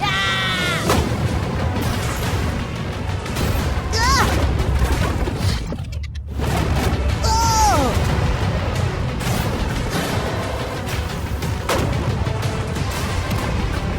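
Gunfire is aimed at a shipping container, with repeated loud bangs and impacts mixed among excited shouting voices.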